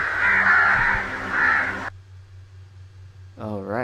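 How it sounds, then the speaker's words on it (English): Crows caw in a creepy video game scene, the calls loud for about two seconds over a low droning hum. A quieter ambient tone follows, then a brief warbling sound near the end. "Creepy black mass while crows are crowing."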